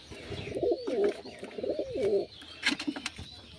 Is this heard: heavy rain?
no